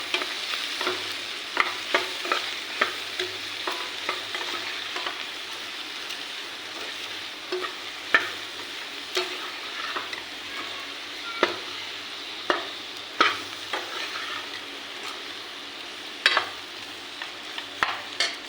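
Fried vegetables with salt, chili, turmeric, masala and corn powder being stirred in a pan, a steady close sizzle with repeated crisp scraping strokes of a spoon at an uneven pace, with no voices.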